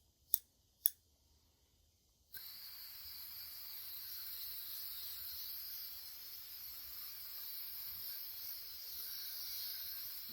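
A hose spray nozzle set to mist hisses softly and steadily over seed trays after two brief clicks, continuing evenly for several seconds.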